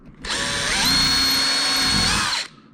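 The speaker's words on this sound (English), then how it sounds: "I'm going to go ahead and drill a couple holes in between the rails" A power drill whirs at high speed for about two seconds, close and loud, spinning up and winding down, boring holes into wood between HO model railway track rails.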